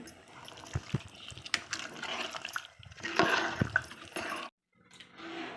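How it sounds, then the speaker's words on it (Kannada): Water is poured into vegetable kurma in a cooker, a soft, steady splashing pour that swells briefly, cuts out near the end, then trickles faintly again. "ನಾನು ಕುರ್ಮಾಗೆ ಬೇಕಾಗೋಷ್ಟು ನೀರು ಸೇರಿಸ್ಕೊಂಡಿದ್ದೀನಿ"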